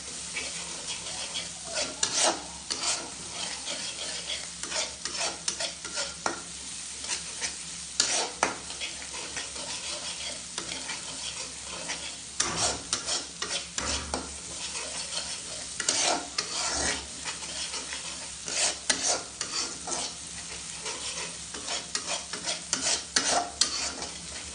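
Spice paste sizzling and frying in oil while being stirred, with repeated spatula scrapes against the pan in an uneven rhythm, close and continuous with no talking.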